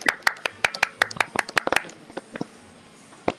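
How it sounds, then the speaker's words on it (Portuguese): A small group clapping hands in thanks at a live Portuguese-language event, about fifteen sharp, fairly rhythmic claps over the first two seconds, then a couple of scattered later claps with faint talk underneath. "Agradecer com uma salva de palmas"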